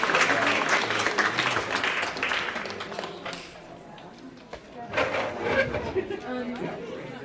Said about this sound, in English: Round of applause for all of